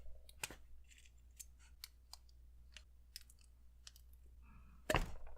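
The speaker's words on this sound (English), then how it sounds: "Now take your RSVP grip and cut 4 mm off the front" Cutters snip 4 mm off the front of an RSVP airsoft grip. There is a string of small, crisp plastic clicks and snips close by, and the final cut gives one louder sharp snap. Nobody speaks.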